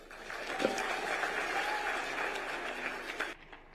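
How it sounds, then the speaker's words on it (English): An audience at the Co-operative University of Kenya in Karen applauds after a speech by President Ruto. The clapping is dense and even for about three seconds, then cuts off abruptly. "Another round of applause for His Excellency for that wonderful speech."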